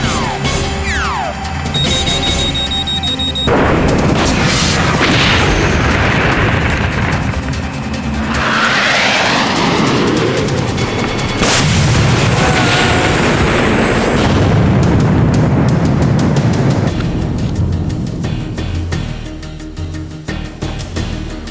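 A cartoon weapon fires with a heavy booming blast, followed by a long, loud, rumbling roar that swells and churns for many seconds before slowly thinning out.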